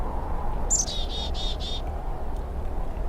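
In the video game Syberia II, a bird gives a short burst of four or five quick, bright chirps near the start, over a steady low ambient hum that continues after it stops.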